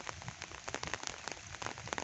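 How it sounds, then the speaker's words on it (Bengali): Heavy monsoon-style downpour during a low-pressure storm pelts a lentil field in Bangladesh, a dense, steady hiss of countless close drops with no voices. "তো সকাল ধরে মুষলধারে বৃষ্টি হচ্ছে সারা দেশে, তো আমাদের এইখানেও হচ্ছে।"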